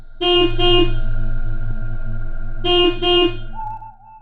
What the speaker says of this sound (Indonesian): bas yang kutumpangi membunyikan klakson berkali-kali karena sepertinya ada kendaraan lain yang menghalangi laju kendaraan ini